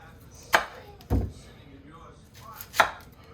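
An onion cut with a knife into thin slices on a cutting board during food prep, three crisp chops spaced apart, close and fairly quiet.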